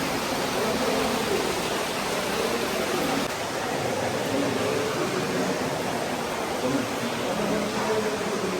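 Water of five rivers rushes together at a confluence near Mahabaleshwar, a steady, dense, even roar of flowing water that holds constant and fills the whole scene without pause.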